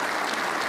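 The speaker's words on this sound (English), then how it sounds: "And listen to the crowd." Snooker crowd in Belfast breaks into brief, dense applause for a recovery shot, a steady wash of clapping filling the whole moment.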